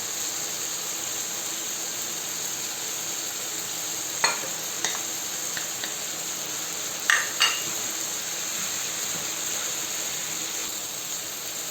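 Parsley and garlic stirred into tomatoes frying in a paella pan with chicken and seafood, a steady sizzle under a few sharp spoon scrapes and clinks, close and alone.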